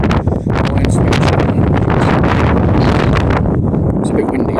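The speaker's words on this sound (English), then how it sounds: "It's a bit windy, so don't mind the wind" Heavy wind buffets the microphone outdoors in rainy weather at an old battery site, a loud continuous rumble with gusty flutter throughout, and someone speaks under it.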